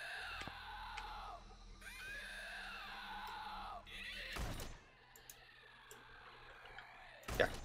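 Shrill alien bug screams in the video game Empyrion, wavering high cries rising and falling over a low hum, interrupted by two sharp loud thuds or bangs.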